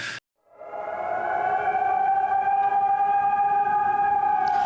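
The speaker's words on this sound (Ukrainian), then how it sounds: "Ось зараз також чуємо звуки повітряної тривоги" An air raid siren in Kharkiv, Ukraine, during a drone attack rises after a short silence and then holds a loud, steady wailing tone.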